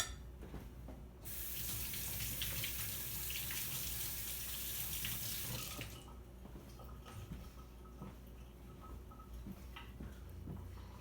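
Tap water runs steadily into a sink while a finger is rinsed during homemade watercolor paint making, a loud broadband rush lasting about five seconds before cutting off, followed by quieter handling sounds.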